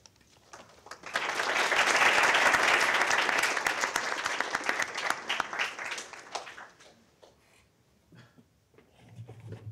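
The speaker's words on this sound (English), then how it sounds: "The applause is meant for each one of you." Applause for the College Fed Challenge finalists swells after a quiet start into a full, sustained round of clapping, then fades away, with a voice speaking faintly at the close.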